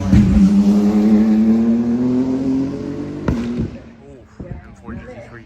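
A Subaru race car engine at the Goodwood event revs loudly with a rising drone, then cuts off abruptly, leaving fainter crowd noise and scattered knocks.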